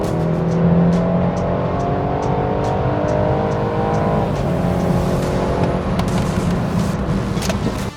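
A 2017 BMW 330i M Sport in sport mode accelerates hard, its engine note rising steadily through the revs, loud and close, with a brief dip as it shifts and then climbs again.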